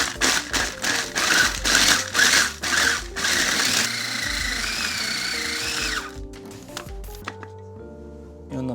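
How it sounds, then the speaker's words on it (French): A food chopper pulses through pieces of caramelized pistachio, grinding them toward powder: a run of loud, rhythmic motor bursts followed by a steadier whir that winds down into quiet background. "Donc on va placer tous les morceaux dans la cuve de notre hachoir. Et on va mixer pour faire une poudre plus ou moins fine"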